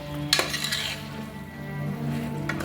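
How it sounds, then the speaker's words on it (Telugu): Telangana-style mutton curry with tomato is stirred in a pan, a spoon scraping and clinking against the metal once near the start over a low, steady sizzle. "తిప్పుకుందాము"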